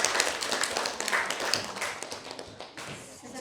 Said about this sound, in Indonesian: Kita tepuk tangan dulu untuk kelompok 1 yang sudah menampilkan hasil diskusinya.